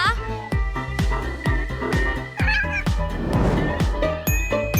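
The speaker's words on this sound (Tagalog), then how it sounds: "At narito ang aking alagang pusa!" A pet cat meows repeatedly over a busy, rhythmic background of plucky music, the meows drawn out and fairly close.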